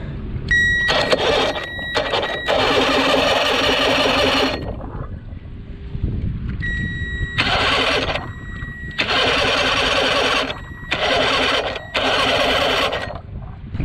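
A 1982 Glasstream boat's Chrysler 100hp outboard is cranked in repeated bursts, a loud close whirring starter grind running a few seconds at a time with brief pauses between attempts and no catch.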